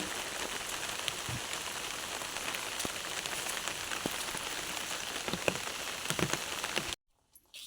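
Steady monsoon rain with wind patters on a surface, a dense continuous hiss with scattered louder drops, then cuts off abruptly near the end.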